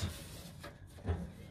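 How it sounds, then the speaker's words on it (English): The fold-up entry steps of a Rockwood Mini Lite 2205S camper trailer are folded away, giving two soft, dull clunks, quiet and close, with low background hiss. "the Mini Light right here comes with the steps that fold up"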